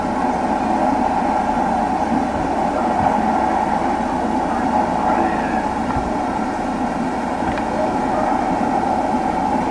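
A train from Train Simulator 2016 runs along the Northeast Corridor rail line near Princeton, giving a steady, loud rumble with constant wheel and track noise throughout and faint thumps over rail joints.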